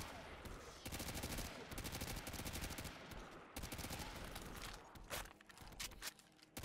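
ACR assault rifle fire in Black Ops 3 Zombies, long rapid automatic bursts with a few brief pauses, close and loud.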